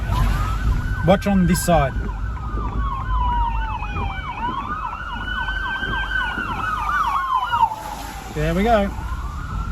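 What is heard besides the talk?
fire truck siren passing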